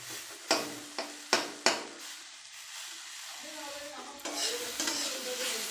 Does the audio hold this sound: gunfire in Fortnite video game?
no